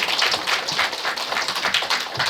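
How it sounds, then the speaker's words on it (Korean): Audience at an academy information session for repeat exam students claps, a dense, steady burst of applause lasting a couple of seconds. "박수를 좀 크게 쳐주십시오."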